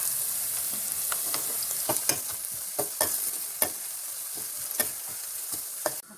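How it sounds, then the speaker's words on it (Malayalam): Ginger frying in sesame oil for a bilimbi pickle sizzles with a steady hiss, punctuated by repeated scraping stirs of a spoon against the pan, heard up close. "അപ്പോൾ ഇഞ്ചി നല്ലതായിട്ട് മൂക്കട്ടെ."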